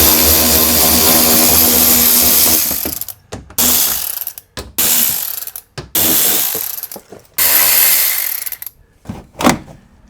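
A ratchet wrench loosens a bolt while LED fog lights are fitted on a RAM 1500, making loud, close bursts of rapid clicking separated by short pauses.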